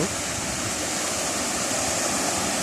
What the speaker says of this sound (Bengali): কি সুন্দর পানির শব্দ